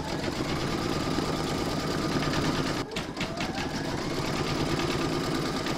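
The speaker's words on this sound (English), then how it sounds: "pop your hoop back into your machine and stitch round number five to secure them" An embroidery machine stitches a round to secure vinyl ears on an in-the-hoop pouch, a loud, close, rapid mechanical chatter running steadily with a brief pause and stutter partway through.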